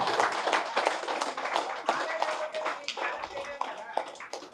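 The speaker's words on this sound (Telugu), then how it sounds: "గట్టిగా చప్పట్లు కొట్టండి" Applause from an audience at a self-knowledge training class runs throughout, steady and full, with a voice speaking over the clapping now and then.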